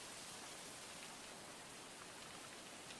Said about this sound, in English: Should we hide from the rain in the abandoned house first?